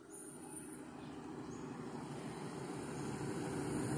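Black Train 49 approaching: a low, distant rumble with a faint high whine that slowly swells and grows louder over several seconds, heard alone with no talk.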